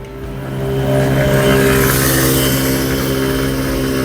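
A fast electric bicycle climbing a ramp with pedal assist, with a steady loud motor whine and wind rush that swells as it gains speed and holds.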